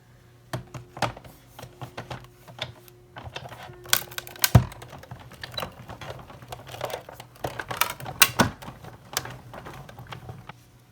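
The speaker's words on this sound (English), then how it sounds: "we will run this one through on this other cardstock" Nested dies running through a die-cutting machine on cardstock, giving a steady series of close clicks, crackles and cranking rattles with a low hum underneath, moderately quiet and with no talking.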